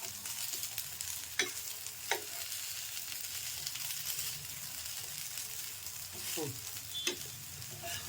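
Adai, a vegetable and lentil pancake, frying on a pan with a steady, soft oily sizzle, broken by a few sharp clicks and scrapes as it is turned.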